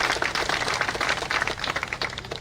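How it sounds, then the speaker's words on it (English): An outdoor audience at a trail ribbon cutting in Granger Park claps, a close, brisk patter of many hands applauding steadily throughout. "give them a round of applause"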